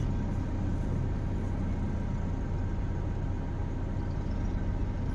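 Jammed road traffic on the Bharatpur to Alwar route, cars, trucks and engines idling and rumbling together in a steady low drone with no clear single vehicle standing out.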